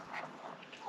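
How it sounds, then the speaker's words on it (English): Ducks quacking at a goat farm for children, where geese are also kept, heard as a steady busy chorus of calls close by without anyone speaking. "There's ducks here and"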